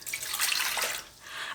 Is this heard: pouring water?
yes